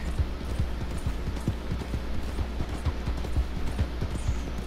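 A horse's hooves clip-clop in a steady, quick rhythm in Red Dead Redemption 2, close and moderately loud over a low background rumble, with no talking.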